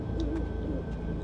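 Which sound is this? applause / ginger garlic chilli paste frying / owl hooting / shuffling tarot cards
owl hooting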